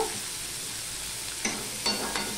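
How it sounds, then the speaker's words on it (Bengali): Onion and garlic frying in a pan for a potol prawn curry, a faint, steady sizzle with a few quick stirring clicks near the end. "এবার পেঁয়াজ রসুনটা আমি ভালো করে ভেজে নেব।"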